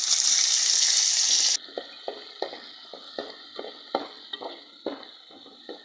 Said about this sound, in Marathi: आता आपण थोडा हिंग टाकूया आणि कांदा घालूया